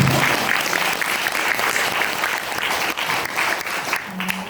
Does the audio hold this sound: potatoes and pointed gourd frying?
no